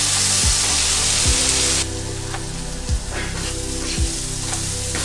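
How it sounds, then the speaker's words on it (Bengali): Grated beetroot and carrot with turmeric fry in oil over a medium flame, giving a dense, rain-like sizzle that eases after the first two seconds. A low, wavering mechanical hum runs underneath, and no one speaks. "এবারে এটাকে মিনিট পাঁচেক ধরে মিডিয়াম ফ্লেমে ভালোভাবে ভেজে নেব"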